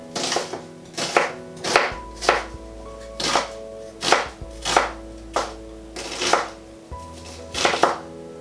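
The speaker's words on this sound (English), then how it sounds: "So that's the garlic chopped." Garlic being chopped with a knife on a cutting board, about a dozen sharp, evenly spaced knocks close by, with no talking.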